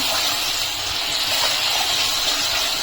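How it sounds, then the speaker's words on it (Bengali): Minced garlic fries in hot oil in a pan at the start of cooking masala okra, giving a steady close sizzling hiss that holds evenly throughout with no voices. "রসুনটাকে আমি হালকা একটু প্রথমে ভেজে নিচ্ছি।"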